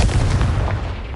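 A loud, close booming blast from the Confringo spell in the game Hogwarts Legacy, a single rumbling explosion that fades over about a second.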